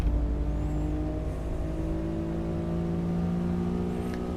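Honda NSX in the Assetto Corsa racing game, engine holding a steady drone with layered harmonic tones as the car cruises to warm its tires, continuous and close with no talk.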